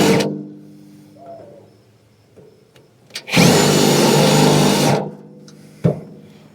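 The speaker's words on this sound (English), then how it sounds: "I'm going to drill out just a little bit more." A power drill whines loudly for about a second and a half as it drills out rivets in the aluminum underskin of a Playcraft tritoon pontoon, between quieter clanks and handling noise.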